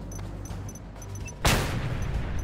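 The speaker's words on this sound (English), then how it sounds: "Grenades." A grenade explodes in a chaotic video game, a sudden loud burst rising out of a busy, continuous game soundscape and tailing off into rumbling noise.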